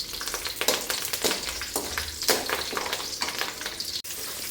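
Garlic and curry leaves fry in hot oil in a pan over low flame, a close crackling sizzle with bursts of spattering and stirring scrapes, ending in a sharp utensil knock, no voices.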